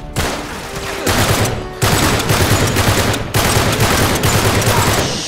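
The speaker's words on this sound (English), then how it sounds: "Shooting him in the legs." Rapid gunfire from the Uncharted 3: Drake's Deception video game while fighting a riot shield enemy, loud dense bursts of shots in several waves with brief pauses between them, no voices.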